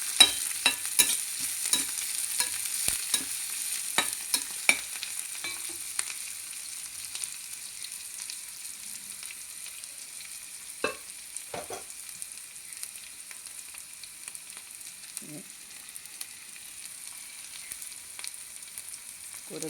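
Banana stem with chana dal and green chillies being stir-fried in a pan, with a steady soft sizzle and scattered sharp scrapes and clinks of a spatula, busy at first and sparser later.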